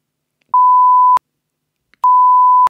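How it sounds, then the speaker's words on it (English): Two identical steady tone beeps, each about half a second long, separated by a short silence. "you'll have to beep that, Owen."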